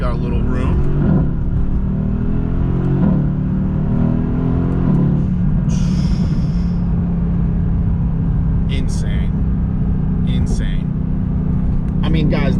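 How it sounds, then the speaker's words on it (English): A Mercedes-AMG with an Icetech tune and downpipes accelerates, its modified exhaust giving a steady, loud rumbling drone throughout, with a few brief sharper bursts, while a voice talks over it. "tune significantly does change the note of the exhaust"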